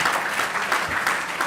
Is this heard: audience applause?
yes